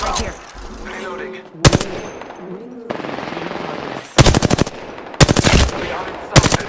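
Gunfire in the Apex Legends video game comes in short, loud automatic bursts spread across the moment, with quieter background game sounds between the volleys.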